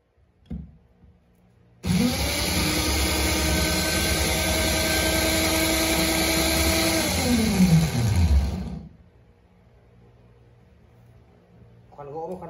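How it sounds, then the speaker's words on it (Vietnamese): A 220V three-function hammer drill set to wood drilling mode starts abruptly and runs with a loud, steady motor whine for about six seconds, then winds down with a falling pitch into quiet. "Đây là lớp khoan gỗ này."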